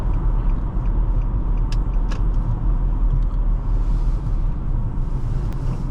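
A 2011 Nissan Maxima SV on a test drive, engine and road rumble heard from inside the cabin as a steady, close drone with a few faint clicks and no talking.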